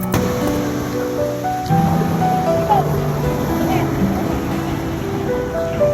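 A steady wash of surf rolls continuously on Patar Beach in Bolinao, with a constant hiss of breaking waves and some faint background noise.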